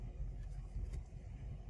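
A car engine idles steadily during a scan-tool temperature check, a low, faint, continuous rumble with no voices present.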